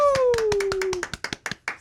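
Hands clap a quick burst of about a dozen sharp, close claps in uneven rhythm as a makeshift sound effect, with a voice calling out over the first half.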